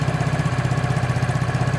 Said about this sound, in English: go ahead and start the scooter